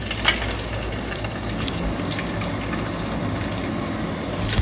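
Mustard seeds and cumin splutter in hot oil for a pumpkin pulusu, a loud, dense, continuous hiss with scattered sharp pops and crackles close by.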